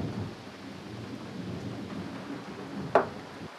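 Steady rain falls throughout a storm scene in a bar setting, with a single sharp thunder crack near the end standing out above the wash of rainfall.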